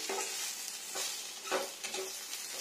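Bitter gourd slices fry in oil in a home kitchen pan, a steady soft sizzle broken by a few scraping flips of a spatula, fairly quiet and close, with no voices.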